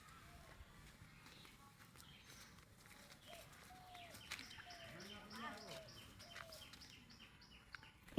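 Birds call in a garden, with scattered chirps and tweets rising faintly over steady outdoor background noise and rustling.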